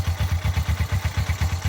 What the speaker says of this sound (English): the engine is not really warm, not yet, so I don't really want to rev the shit out of it